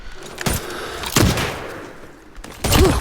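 Gunfire in a shooting video game, several separate sharp shots spaced across a few seconds, loud and close, with no voices over them.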